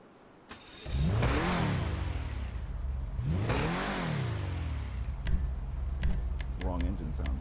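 Video game BMW Alpina B5 wagon with side exhaust and a swapped M5 V8, its engine revving in two long rising and falling sweeps, loud and close, with a few faint ticks near the end and no talk.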